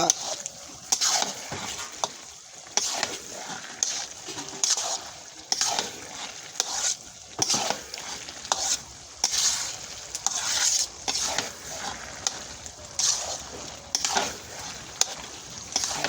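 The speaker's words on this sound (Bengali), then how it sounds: "দেখেন এই যে নাড়তেছি শুধু তেলে, এটা শুধু তেলে তৈরি করা হচ্ছে।" Spice paste of oil and masala frying in a pan while being stirred, a steady sizzle broken by repeated scraping strokes of the spoon at an uneven rhythm, close and fairly quiet.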